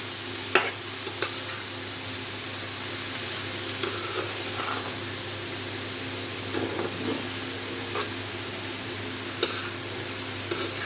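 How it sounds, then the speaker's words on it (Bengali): Pumpkin bhaji with onion, green chili and salt sizzles steadily in a pan while a spatula stirs it with a few light scrapes, close and continuous throughout. "ভাজিটা একটু ভালো করে নাড়া দিয়ে তারপর একটু ঢেকে দিব নরম হওয়ার জন্যে"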